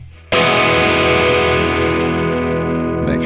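An electric guitar runs through the Amplitube 5 amp simulator, striking one heavily distorted chord that rings out loud and sustained for about three seconds with no talking over it.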